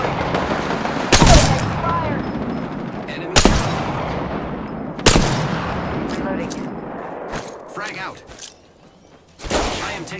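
Gunfire in the video game Apex Legends, loud sharp shots and bursts at irregular intervals over a busy battle ambience, with brief character voice lines between them.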